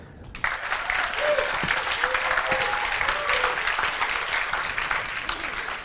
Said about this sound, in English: I want you to give them a round of applause as I call them up and congratulate these people